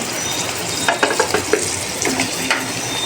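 Fried taro with onion paste, yogurt and ground cumin being stirred and sautéed in a pan: a steady sizzle with a series of scraping, clinking stirs, no talking.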